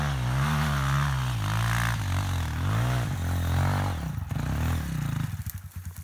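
A Yamaha WR250F dirt bike climbs a steep, rough dirt trail, its engine revving hard and close, the pitch rising and falling with throttle before sputtering and cutting out near the end.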